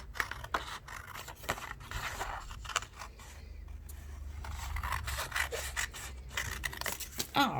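Scissors cut across paper from edge to edge, a close, quiet run of repeated snipping and crisp rustling strokes that continues steadily throughout.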